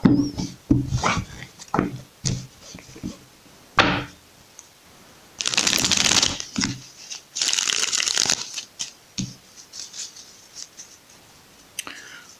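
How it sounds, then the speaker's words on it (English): A deck of Spirit of the Animals oracle cards is shuffled by hand: scattered taps and slides lead into two longer riffling bursts, close and crisp, then a few soft clicks. "Okay, one more shuffle."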